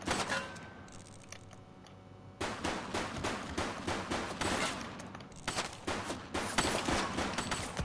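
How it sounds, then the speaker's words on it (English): Rapid bursts of gunfire ring out in a police shooter video game, sparse at first and then dense volleys of overlapping shots, loud and close, with a faint ticking underneath. "He's shooting!"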